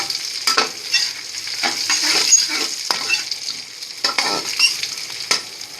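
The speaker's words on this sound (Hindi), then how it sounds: "इन सब चीज़ों को हमने फ्राई कर लेना है हल्की आंच पे" Coconut, raisins and other ingredients frying over low heat in a pan, a soft continuous sizzle broken by repeated scraping stirs of a spoon, close and fairly quiet.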